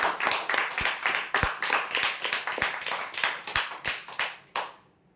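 A crowd at a lucky draw claps for the tea table prize winner, a dense run of many hands with a few louder near claps that stops abruptly at the end, with no talking.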